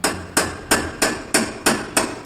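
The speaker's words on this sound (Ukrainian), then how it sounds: "Це стукіт молотком" A hammer strikes seven times in an even, steady rhythm, each knock sharp and close with a brief ringing decay.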